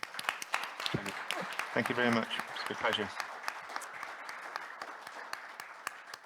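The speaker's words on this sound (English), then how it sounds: "Could you please give him a big round of applause" Scattered, sharp hand claps from the audience at an international sports safety forum continue throughout, with someone speaking briefly over the applause.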